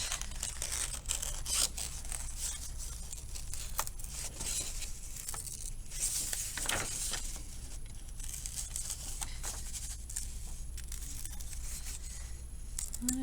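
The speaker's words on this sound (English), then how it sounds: "my circle is far from perfect, and that is just fine. So I'm just going to cut this one out." Scissors cutting a circle out of paper, with soft crinkling and snipping going on steadily and faintly throughout, no voices.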